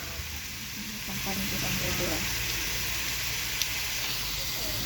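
Steady sizzling and hissing of pancit bihon and canton noodles being stir-fried in a pan, with faint stirring clinks and soft talk in the background.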